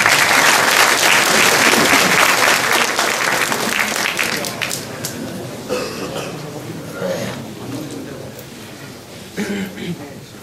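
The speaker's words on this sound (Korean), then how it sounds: "이야 우선 박수부터 쳐." Studio audience at a live Korean lecture breaks into loud, dense applause that starts at full strength, then thins and fades over several seconds into scattered claps and murmuring.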